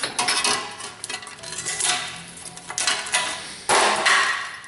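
Repeated sharp metallic taps from a small hammer striking a Chevy/GMC front wheel hub assembly, irregular and close, with clanking between blows.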